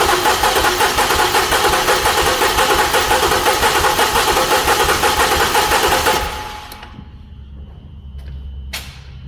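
A 2008 Lincoln MKX engine cranks and catches, running with a loud, steady mechanical chatter for about six seconds before cutting off abruptly to a quiet background with a brief clatter near the end.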